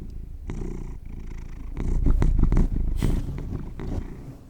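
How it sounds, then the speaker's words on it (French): A cat purrs close by on a lap in a low, rumbling rhythm, with a few soft rustles and bumps mixed in. "j'ai mon chat qui est juste là, qui est juste sur mes genoux, qui fait des petits ronrons."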